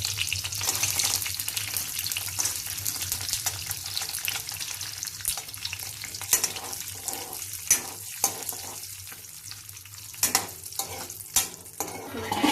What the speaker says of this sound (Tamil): நெய்யில முதல்ல முந்திரி பருப்பு வறுத்து எடுத்து வச்சுட்டு அந்த நெய்யிலேயே இந்த கேரட்டை நல்லா வதக்கிக்கணும்.